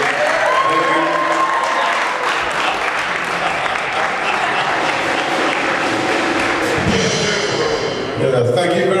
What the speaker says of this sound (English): Let's give him all a round of applause, please.